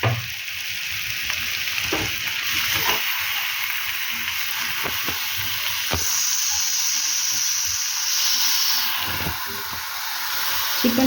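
Chicken cooks in a pan with chili powder and turmeric, giving a steady, close sizzle and hiss with occasional stirring clicks and scrapes.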